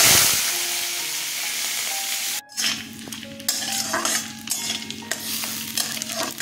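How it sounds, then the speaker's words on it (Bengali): Dried shutki fish, a dried salted fish, dropped into hot oil for frying, starting with a sharp burst of sizzling that settles into a steady, close crackle with light clinks of a spatula against the pan. "আমি মাছগুলো এখন তেলে ছেড়ে দিচ্ছি।"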